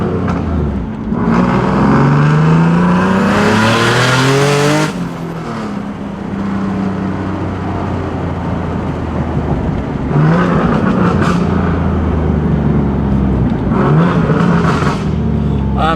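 A car engine revs hard and accelerates in rising pulls, loud and close, with brief shifts between bursts and a steady road roar underneath.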